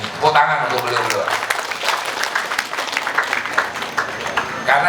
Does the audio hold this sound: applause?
yes